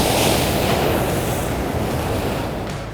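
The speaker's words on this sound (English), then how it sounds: "That's a real wave." Ocean wave breaking on a North Shore Massachusetts beach, a loud, broad roar of surf and wind that holds steady and then eases off slightly near the end.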